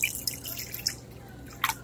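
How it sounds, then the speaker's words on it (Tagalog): Water drips into a frying pan while pancit bihon is being cooked, several separate close, crisp drips landing one after another. "Lagyan ko muna ng tubig ito kasi meron pang natira."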